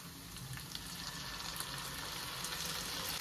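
Sauce goes into a hot pan of kung pao chicken, setting off a loud, steady frying sizzle that keeps up without a break and with no voices.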